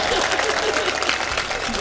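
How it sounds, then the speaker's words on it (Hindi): An audience at a kavi sammelan, a Hindi poetry recital in Sampla, claps in a dense, steady round of applause that holds at an even loudness for the full two seconds. "ताली बजा दो भाई, मैं सांस भी ले लूं।"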